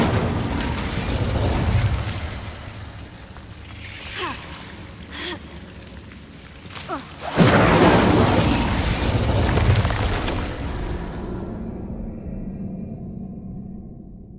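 The Incendio fire spell is cast in Hogwarts Legacy on PS5, bursting into a loud, close fiery whoosh and boom that roars for a few seconds and then fades, after quieter rumbling and small pops.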